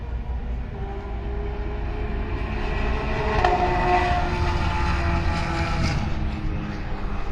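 A steady engine roar rises gradually, peaks, then eases off as a race car passes at a distance at Nashville Superspeedway, with no talking.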